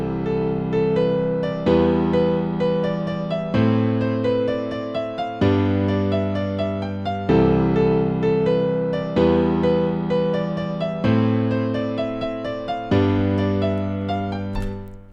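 A house track built in FL Studio plays synth chords over deep bass notes. Sustained chord stabs change about every two seconds in a steady, loud looping progression, with no voices.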